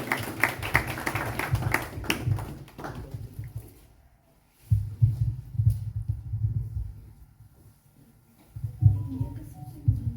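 An audience at a book launch and poetry gathering claps in a brief, dense burst of applause that quickly dies away, followed by quieter low rumbling and hall noise.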